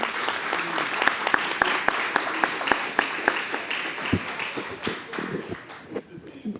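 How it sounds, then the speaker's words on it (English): An audience applauds steadily, with crisp individual claps standing out near the front before the clapping thins and fades. "A round of applause for him because he's so wonderful."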